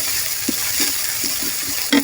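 Water poured into a pan of frying onion, ginger, cumin and garlic paste for an egg curry, giving a loud, steady close sizzle with a few soft bubbling pops.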